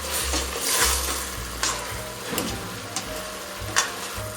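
Chopped leeks sizzle and fry in olive oil in a pan, a steady crackling hiss broken by several scraping stirs and light clicks of a utensil against the pan, close up.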